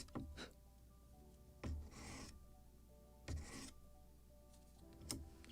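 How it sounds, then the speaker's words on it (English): A wooden plank block for a model gunboat is chamfered by hand, giving four separate short rasping strokes spaced a second or more apart, close and soft in a quiet room. "So I will chamfer it."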